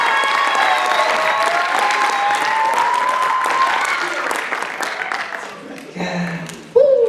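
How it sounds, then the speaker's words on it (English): A concert audience at The Voice vocal showcase gives the finalists a strong round of applause mixed with cheers, which fades over several seconds before a voice comes in. "Let's give them one more round of applause before we send the first one out."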